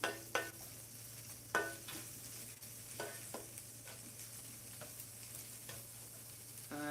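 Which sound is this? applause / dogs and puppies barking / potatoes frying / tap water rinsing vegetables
potatoes frying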